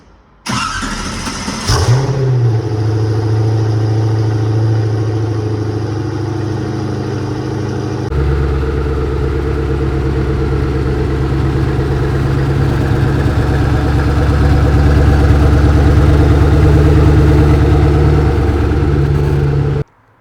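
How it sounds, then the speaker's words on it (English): A 1360 HP Koenigsegg Agera Final One supercar engine fires up with a sharp cranking bark, then settles into a loud, close, steady idle that rises to a deeper, heavier rumble midway and holds until it cuts off abruptly. "reward you with a beautiful ending note of the Agera Final One. So let's fire it up"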